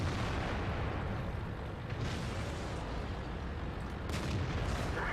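Tank cannon fire from World of Tanks booms over a dense, rumbling battle background, with a couple of brief blasts standing out amid constant noise.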